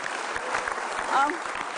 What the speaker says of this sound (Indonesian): kita kasih tepuk tangan dong Mas Valentino